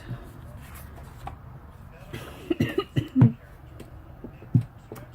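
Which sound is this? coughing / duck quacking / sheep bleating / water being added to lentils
coughing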